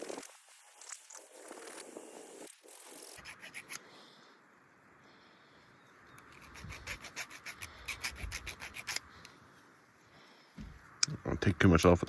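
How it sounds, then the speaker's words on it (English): A hand file scrapes over the distributor points of an old wheel loader that had sat unused for years, giving quiet repeated rasping strokes. Faint knocks and handling sounds come through, and louder scraping builds near the end. "I don't take too much off with that file."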